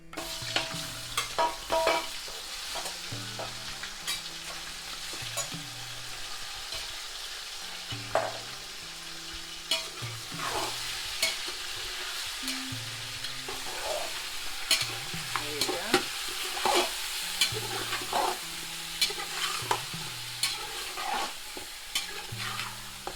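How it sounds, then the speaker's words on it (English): Lamb pieces frying in hot oil with spices for biryani, a steady close sizzle with frequent scraping stirs and utensil knocks running throughout, alongside a low repeating hum underneath. "Let the meat fry for at least 5 minutes."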